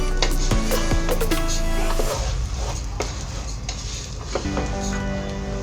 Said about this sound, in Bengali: নেড়েচেড়ে আমি চালগুলোকে কিছুক্ষণ ভেজে নিয়েছি।